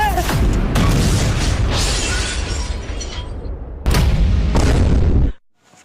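Loud booming firecracker blasts with crackling bursts during Deepavali, close and overwhelming, cutting off abruptly near the end.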